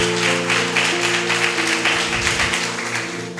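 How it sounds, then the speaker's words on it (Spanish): Congregation applause at a Spanish-language church service, brisk rhythmic clapping over a sustained organ or keyboard chord, fairly loud and close, with no speech. "Eso, denle el aplauso al Señor."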